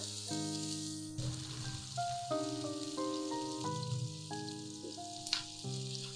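Onions frying in oil in a cooking pot for chicken macaroni, a soft, steady sizzle heard faintly beneath sustained background music tones.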